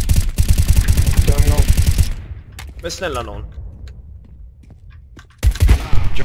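Rapid video game gunfire rattles loudly in dense bursts at the start and returns at the end, with someone speaking in Swedish during the quieter middle stretch.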